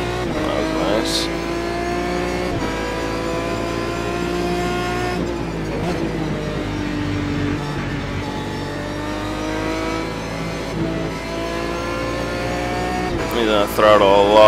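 An Aston Martin DBR9 GT1 race car engine in the iRacing simulator revs and drones loudly and continuously, its pitch rising and falling with throttle through a corner and a sharp surge near the end.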